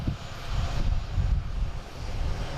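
Delta Boeing 757 jet arriving from Las Vegas at Boston Logan, a loud, continuous low engine rumble with gusty wind-like texture, close and unbroken, with no talking.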